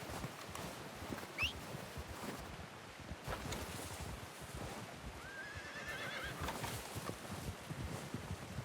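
A horse in the Red Dead Redemption 2 video game whinnies and snorts over soft, steady hoof clops and light outdoor wind, at a moderate distance with no talking.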